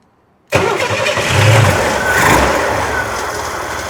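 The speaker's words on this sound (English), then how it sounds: "doesn't like to start. I just need to use throttle persuasion." A 1966 Chevy Corvair engine catches abruptly after silence and settles into a loud, steady, slightly uneven idle close to the microphone, with a brief throttle rise partway through and no talking.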